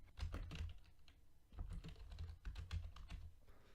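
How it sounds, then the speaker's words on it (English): Computer keyboard typing in bursts of quick key clicks while entering data into spreadsheet cells, close and fairly quiet with a short pause between flurries and no speech. "it's as simple as typing on the keyboard."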